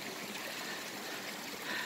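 Waterfall at Wadi Qurai, a steady broadband rush of falling and flowing water, close and continuous without pause.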